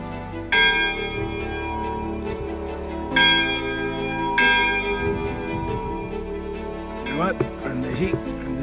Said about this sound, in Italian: però si possono suonare le campane